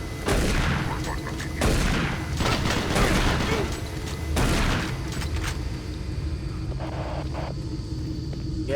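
Shotgun blasts from DOOM 3: BFG Edition, several heavy booming shots spaced a second or so apart, each a loud broadband burst with a rumbling tail, followed by quieter ambient hum.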